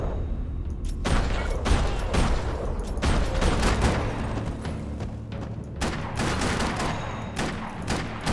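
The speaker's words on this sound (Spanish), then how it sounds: "para disparar en el aire." Dense gunfire from the video game Max Payne 3, with shots fired while leaping through the air: a loud, steady volley of overlapping blasts and sharp cracks that runs nearly without a break.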